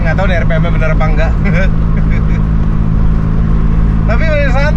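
A Daihatsu Charade Turbo engine held at high revs at 70, a loud, constant droning hum inside the car, with someone talking over it in short bursts.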